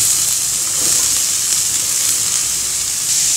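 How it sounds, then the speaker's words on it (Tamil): Chayote goes into a pan of sautéing onions and curry leaves, giving a steady, close frying sizzle with a constant bright hiss and no talking. "வெங்காயம் வதங்கிடுச்சு ரொம்ப ப்ரௌனாக வதங்க தேவையில்லை அதில் நம்ம சவ் சவ் சேர்த்துடலாம்"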